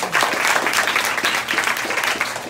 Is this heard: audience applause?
yes